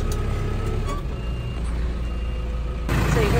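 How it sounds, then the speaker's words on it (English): Reversing beeps from a vehicle backing up with a trailer attached, a steady repeating electronic tone over a loud, constant engine rumble close by. "I do have a trailer on, which is going backwards on me."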